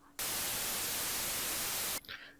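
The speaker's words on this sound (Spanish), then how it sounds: "¿Podrías hacer un archivo WAVE con ruido blanco que dure 5 segundos?" A computer-generated white noise WAV file plays as a loud, steady hiss that switches on abruptly and cuts off just as suddenly after under two seconds, with no voices present.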